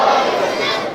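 A large audience at a religious lecture on the greatness of the Quran loudly shouts a slogan together, a sustained roar of many voices close and filling the space for about a second.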